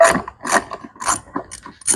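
Close ratchet clicking in five short bursts as screws are backed out on a BMW S1000XR motorcycle during an air filter change, each burst a quick run of metallic pawl clicks separated by brief pauses.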